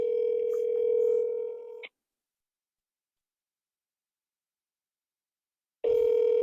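A telephone call rings out while waiting for an answer: a steady ring tone sounds, then four seconds of silence, then the tone returns, heard close through a phone line.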